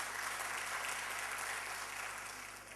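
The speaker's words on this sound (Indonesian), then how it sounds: "Tepuk tangan bagi Allah kita" Church congregation applauding during a sermon, a steady wash of many hands clapping at moderate distance that slowly fades toward the end.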